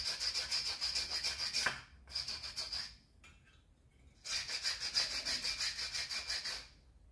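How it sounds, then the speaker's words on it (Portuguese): Sandpaper rubs across a plaster 3D wall panel in close, rapid back-and-forth rasping strokes, in two long bursts split by a short scrape and a quiet pause, without any talking. "Lixar, né? Não esquecer."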